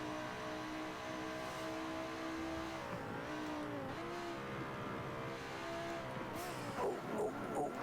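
Racing truck in a racing video game braking hard with its front tires locking up, engine note dropping and a tire squeal and skid rising toward the end, fairly quiet overall.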